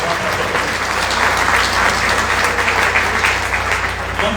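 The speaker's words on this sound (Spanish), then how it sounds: "un aplauso grande" Audience applause at a book presentation, a dense, sustained burst of clapping from a full room that holds steady for several seconds.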